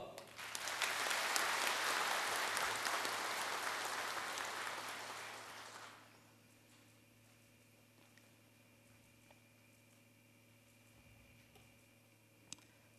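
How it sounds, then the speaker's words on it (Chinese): An audience at a ceremony founding Zouping city bursts into loud, sustained applause for about six seconds, then the clapping fades to near silence with a quiet hum of the hall behind it. "让我们再一次用掌声表示祝贺"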